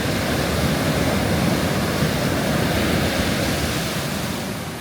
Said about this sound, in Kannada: ಓ ಅಲೆಗಳು ಜೋರು ಬರ್ತಾ ಇದೆ.